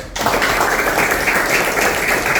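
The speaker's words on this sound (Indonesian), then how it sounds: "Tepuk tangan dulu." A classroom of children claps together at a teacher's prompt, a loud, close burst of hand claps that starts abruptly and continues evenly.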